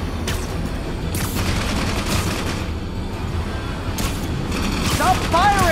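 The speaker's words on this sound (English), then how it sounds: "Stop firing!" Gunfire rattles through a fight in Marvel's Spider-Man Remastered, with sharp bursts and booms repeating over a dense, loud battle din while voices speak.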